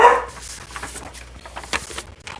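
A single dog bark at the start, indoors at home as someone passes outside the house, followed by faint scattered clatter and low background noise.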